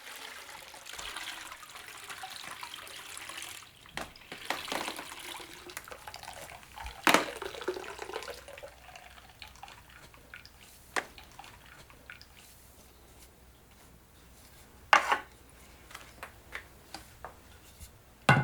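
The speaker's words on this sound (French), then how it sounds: "Il va tremper le tissu successivement dans les 4 bains, en commençant par le plus dense." Water splashes and drips as fabric is dipped and rinsed in a series of dye baths in Kyushu, Japan, with soft trickling, sloshing and a few sharp splashes, close by and without talk.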